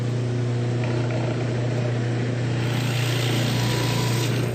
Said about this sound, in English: Well, okay, I'm just drilling.